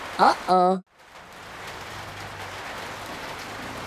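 Rain falling, a steady soft hiss that builds after a brief quiet gap and continues evenly; a short burst of voice sounds comes before it.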